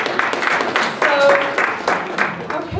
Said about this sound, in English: and that needs a round of applause.